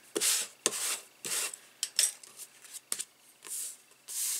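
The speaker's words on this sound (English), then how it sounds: "Just going to rub from the back." Rubbing strokes across the back of a stamped paper card with a Stampin' Up! botanical butterfly design, short close scratchy swishes in an irregular rhythm separated by brief pauses.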